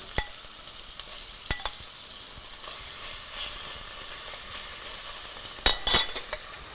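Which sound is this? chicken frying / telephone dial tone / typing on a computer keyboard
chicken frying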